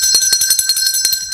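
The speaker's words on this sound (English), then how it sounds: "that's the blessing, or the bell of blessing for you." On a Nigerian radio talk show, a bright bell rings in a quick run of about a dozen close, loud strikes, sounding alone.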